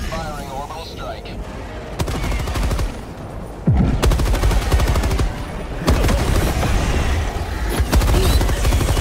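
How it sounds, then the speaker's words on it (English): An orbital strike hits a bug outpost in Helldivers 2, with heavy rattling gunfire and booming impacts in loud bursts, a low whoosh partway through, and a voice speaking at times. "Bug outpost spotted. Prepare to exterminate. Firing orbital strike."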